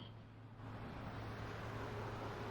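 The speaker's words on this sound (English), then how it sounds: "Driving sound effects." Car interior driving ambience, a low steady engine hum and broadband road noise that grows slightly louder after the first half second, faint and continuous with no talking.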